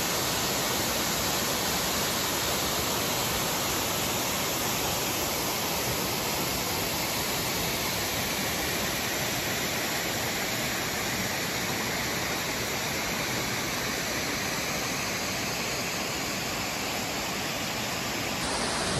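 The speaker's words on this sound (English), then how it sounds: "here I am at the falls" A waterfall on a river beside the Appalachian Trail near Springer Mountain roars with a loud, constant, broadband rush of falling water that fills the whole stretch without pause.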